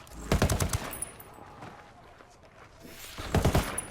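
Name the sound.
rifle gunfire in Ghost Recon Wildlands video game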